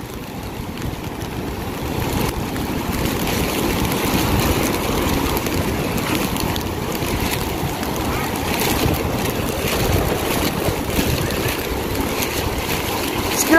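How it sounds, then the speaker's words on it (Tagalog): Rushing floodwater after the first rain of the year in Jeddah, a continuous broad churning wash of surging waves, loud and steady throughout with no break. "Lakas na nga alon, no?"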